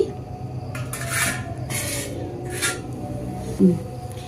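Two steel plates handled for baking biscuits at home, giving soft scraping and rubbing noises with a light metallic clink near the end, close and alone.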